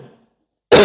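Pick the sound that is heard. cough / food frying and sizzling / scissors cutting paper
cough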